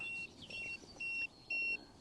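A fish finder's shallow-depth alarm beeps four times in an even rhythm, short high-pitched tones over a low background rumble.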